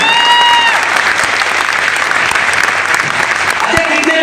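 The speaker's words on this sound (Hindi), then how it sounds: "एक बार जोरदार ताली बजा दीजिए।" Loud, steady crowd clapping fills a hall at a Banaras gathering honoring a guru, continuous and dense from start to finish with brief tonal music bits at the edges.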